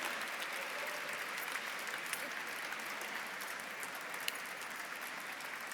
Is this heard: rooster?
no